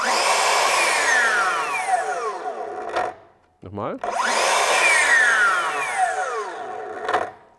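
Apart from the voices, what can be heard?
Bosch cordless saw running, then motor brake stopping the blade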